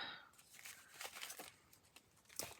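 Plastic wrapper from a pair of scissors being handled, giving soft crinkles and a few sharper crackles, quiet and close, with no talk.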